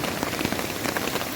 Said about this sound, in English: would be the rain dripping on the ground